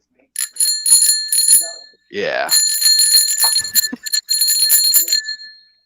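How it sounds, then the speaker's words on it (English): A small bell is rung in several quick bursts of bright, ringing dings, separated by short gaps, with people talking and laughing around it. "Ring your bell."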